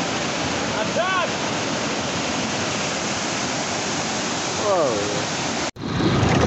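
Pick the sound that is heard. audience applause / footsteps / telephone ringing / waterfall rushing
waterfall rushing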